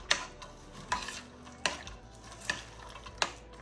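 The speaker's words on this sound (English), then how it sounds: "And stir it up." Stirring German chocolate cake frosting with vanilla in a pot: a spoon scrapes and knocks against the pot in a steady rhythm of about five strokes, close and soft, with no talk.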